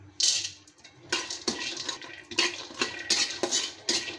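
Peanuts being dry-roasted in a pan for a spice paste, with a spatula scraping and stirring in irregular bursts of close metallic rattling and clinking, with no talk.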